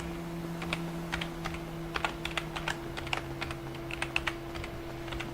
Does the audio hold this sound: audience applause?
no